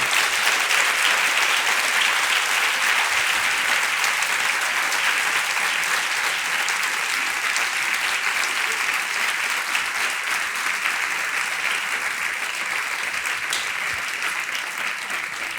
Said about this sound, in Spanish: Aplaude al Rey de Gloria que se lo merece